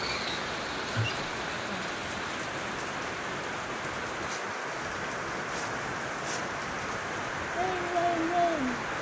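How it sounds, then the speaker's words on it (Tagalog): Heavy rain pours outside, a dense and steady hiss that stays even throughout, with a faint voice briefly heard near the end. "Malakas ang ulan sa labas."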